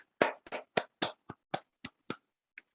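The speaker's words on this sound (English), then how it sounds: "Give all the Elkenian there's a big applause" About ten sharp, separate hand claps ring out at a company's twentieth-anniversary gathering, close and fairly evenly spaced, thinning out toward the end with no talk over them.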